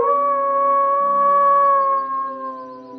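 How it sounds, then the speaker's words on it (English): A lone dog howls in a long, sustained, wavering tone that holds steady and then slowly fades, clear and close with nothing else around it. "he saw a dog lying on the road, howling"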